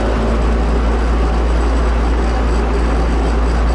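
A tractor pulling two trailers during silage harvest drones loudly and steadily nearby with a deep rumble. No one speaks.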